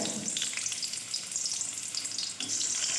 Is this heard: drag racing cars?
no